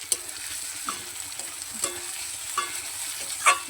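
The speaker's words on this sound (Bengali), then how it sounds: "তো এবারে আমি আদা বাটা দিয়ে দেবো।" Ginger paste frying in oil with onion and garlic, a soft continuous sizzle with a few scattered spoon scrapes and light clinks against the pot.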